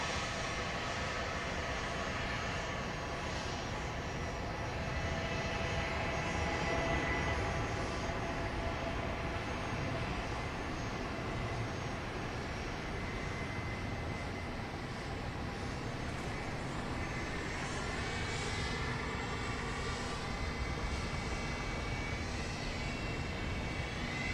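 Airliner taking off from the west side of Dallas Love Field, a steady, loud, broadband engine roar that holds for the whole stretch with a slowly shifting tone as the plane climbs away.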